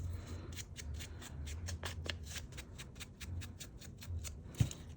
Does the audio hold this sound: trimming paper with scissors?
yes